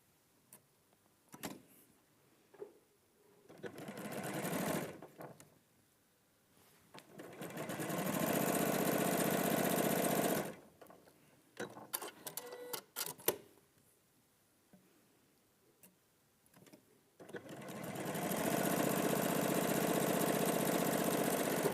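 A sewing machine stitches pairs of quilt triangles, running in a few steady bursts of rapid mechanical whirring with quieter handling clicks and pauses between them, close and loud.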